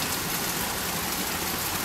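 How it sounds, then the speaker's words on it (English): Heavy rain pours down in a dense, constant hiss, loud and unbroken throughout, with no talking. "Crazy, insane rain."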